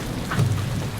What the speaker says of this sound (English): We're going back as it started raining.